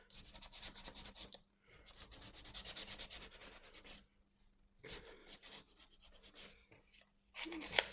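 Rough back side of a sanding tool scuffing a paper junk-journal card, quiet rasping strokes in short bursts separated by brief pauses.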